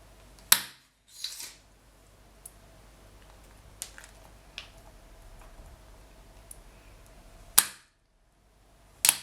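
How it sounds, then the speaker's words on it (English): Polymer clay is trimmed into sections with a few sharp, isolated cutting clicks spread over a quiet background, plus fainter small taps between them. "then I'm going to trim it into sections"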